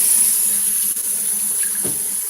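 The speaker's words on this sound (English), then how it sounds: "can you turn the water on?" Steady hiss of water running from a kitchen tap, a continuous broadband wash that holds evenly throughout with a brief gurgling change near the end.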